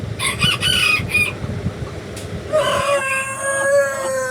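Hens cluck and squawk close by at a fancy chicken farm in Joypurhat, Bangladesh, then a rooster lets out a long, loud crow that carries to the end.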